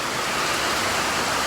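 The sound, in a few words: rain falling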